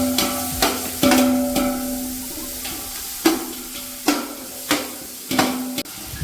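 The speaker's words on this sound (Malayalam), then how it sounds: "പേസ്റ്റ് ചേർത്ത് കൊടുത്ത് 1 മിനിറ്റ് നല്ലപോലെ ഒന്ന് സോട്ട് ചെയ്തെടുക്കുക" Ginger garlic paste sautéing in a pan for vegetable biryani: a steady sizzle close by, broken every second or so by loud metallic knocks and scrapes of a spoon against the pan.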